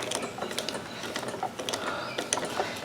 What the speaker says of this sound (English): I'm going to start with these screws, the 932 socket, right down here.